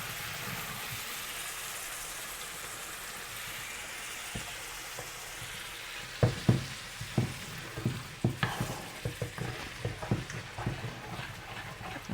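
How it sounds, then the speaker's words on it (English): Tomatoes go into a frying pan for butter chicken: a quiet sizzle at first, then a burst of louder crackling, spatter and stirring knocks as they land and are worked around the pan. "now we're gonna add our tomatoes"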